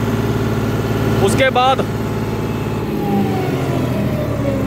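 John Deere 5310 GearPro 55 HP tractor engine held at full throttle, around 2100–2200 rpm, giving a steady, loud, even drone while someone speaks briefly over it.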